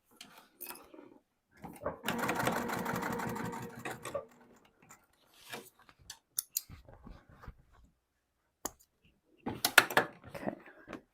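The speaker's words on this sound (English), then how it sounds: "I'm going to tack my little elastic down before attempting to sew this guy." Home sewing machine stitching elastic onto a cork backpack, a short steady whirring run followed by scattered clicks, handling noises and brief bursts, close and fairly quiet.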